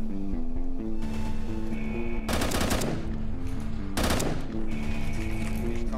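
Rapid bursts of gunfire from an SCP video game, with two dense, loud volleys standing out over steady background music and game sound.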